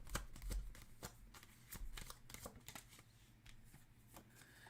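Tarot cards shuffled by hand, a quiet close run of rapid riffling and soft slapping bursts repeating irregularly, with no voice.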